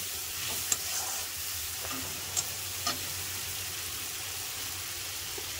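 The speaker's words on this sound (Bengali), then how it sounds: "এবার এগুলোকেও একটু আমি মশলার সাথে ভালো করে কষে নেব।" Fried prawns stir-fried with spices in a pan give a steady, fairly quiet sizzle, broken by a few sharp scrapes and clinks of a spatula stirring, with no voices.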